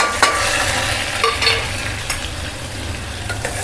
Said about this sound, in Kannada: ಟೊಮೆಟೊ ಉಳ್ಳಾಗಡ್ಡಿ ಹಾಕ್ತೀನಿ ನೋಡಿರಿ ಎಣ್ಣೆ ಕಾದಿಟ್ಟು